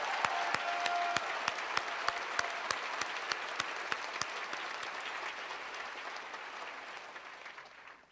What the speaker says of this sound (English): please join me in giving a big round of applause to show our appreciation to the amazing faculty and staff